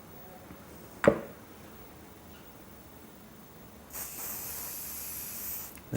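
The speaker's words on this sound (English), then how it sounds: "And just finish off, a little bit of hairspray." Hairspray from an aerosol can misted over a finished African-style turban, a steady close hiss lasting about two seconds near the end after a single sharp tap earlier.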